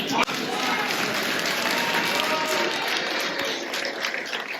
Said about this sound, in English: Let's all give a round of applause to the person who sung the Latin.